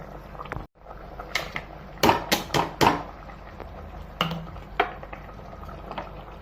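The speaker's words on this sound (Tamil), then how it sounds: "நல்லா கொதிக்குதுங்க" Water bubbles and gurgles at a rolling boil in a cooking pot for mutton biryani, with several sharp, close bursts and pops over a constant low rumble.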